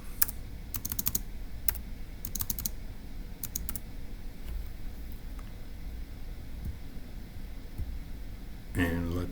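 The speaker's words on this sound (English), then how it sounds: "So let's go ahead and type that up." A puzzle solution is typed on a computer keyboard in short clusters of crisp key clicks, with gaps between them. Low room noise runs throughout, and a brief burst of another sound comes at the end.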